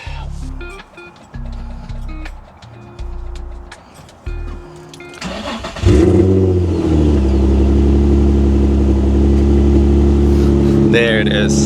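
A Nissan 350Z with a new HENKO Y-pipe exhaust idles roughly at first amid tools and a brief comment, then fires up into a loud, deep, steady engine rumble that fills the rest of the clip.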